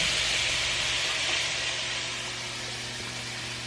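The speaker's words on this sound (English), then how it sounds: "With the green pepper, red pepper, and the garlic, I'm just gonna toss in the pan. And I am just gonna allow that to cook down." Green pepper, red pepper and garlic sizzle in a pan on the stove as they cook down, producing a steady, soft hiss of frying that fades slightly toward the end, with no voices.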